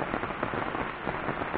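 Heavy rain pours steadily at Hengxi creek in Sanxia, a mountain stream used for fishing, as a dense, constant hiss of drops with no voices over it.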